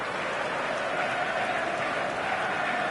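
A video game stadium packed with a capacity crowd, a steady, broad roar of many voices holding at an even level throughout, without clear individual shouts.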